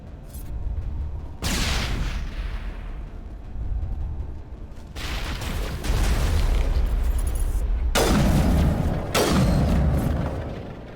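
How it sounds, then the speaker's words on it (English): Grenade blasts in the video game Mass Effect: several loud, deep booming explosions in quick succession, each a sudden broadband burst with a rumbling tail, filling the clip with no talk over them. "Grenade!"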